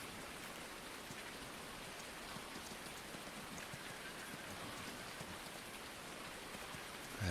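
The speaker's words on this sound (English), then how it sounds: "I know it's raining" Steady rain falls continuously in a farming simulator game, a dense even hiss of drops on surfaces at moderate volume, with no voices.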